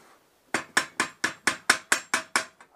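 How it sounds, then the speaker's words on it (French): Hammer striking the metal headlight bracket of a Citroën 2CV in a home workshop, nine sharp, evenly spaced ringing blows in quick succession, close and loud with no talk. "Marteau."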